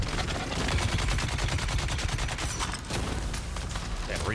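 The player's gun in Dune: Awakening fires rapid automatic bursts, loud close shots in a fast rhythm with a brief gap before the firing resumes.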